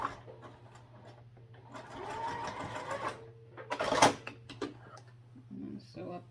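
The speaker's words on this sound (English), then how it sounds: "Sew up them." Sewing machine top-stitching the card slots of a sling bag, a steady motor drone under bursts of clattering needle action, with handling noises and a brief sharp clack midway.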